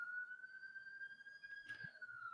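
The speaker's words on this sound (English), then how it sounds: "Did I just hear a siren?" A siren wails faintly in the distance, a steady high tone holding through a short stretch with brief background noise near the end.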